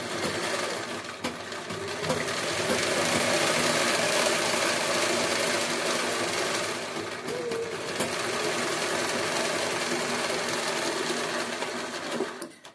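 A sewing machine stitches along the edge of fabric with a continuous, close whirring hum. The hum rises briefly and settles, then cuts off at the end, and no one speaks over it.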